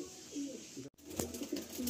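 A red pigeon coos in a few short, low, rounded bursts close by, with a brief dropout partway through and background chatter of other birds.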